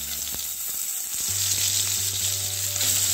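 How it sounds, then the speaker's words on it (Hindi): Eggs fry in hot oil, giving a bright, even sizzle that holds steady and close for a few seconds, with a low electrical hum joining partway through; no one speaks. "और दोनों साइड से गोल्डन ब्राउन होने तक हम इसे फ्राई करेंगे।"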